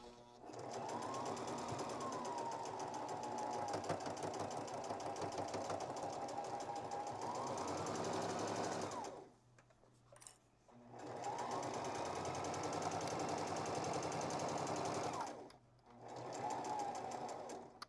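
Domestic sewing machine stitching a shirt into a memory pillow, running in two long steady whirring bursts with a short pause between them and a brief restart at the end, close and clear with no voices.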